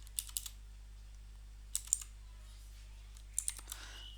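A computer keyboard is tapped while code is being typed, with small clusters of two or three quick keystrokes separated by short pauses, all faint against a low steady hum.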